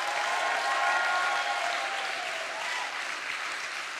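A large audience claps and cheers together at a motivational speaking event, a dense, steady wash of applause filling the whole stretch without any voice on top.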